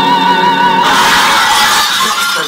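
A window smashes in a Sherlock Holmes video game, a loud burst of shattering glass at about the one-second mark, a sustained bright crash with tinkling debris, after a short stretch of tonal background music.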